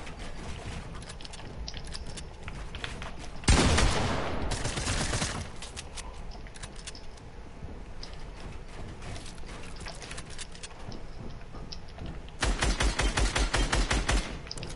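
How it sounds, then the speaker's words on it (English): Gunfire in Fortnite comes as a loud burst of rapid shots, then a stretch of mechanical clicking, then a fast automatic rattle near the end, with no talking over it. "I'm just shooting around and stuff"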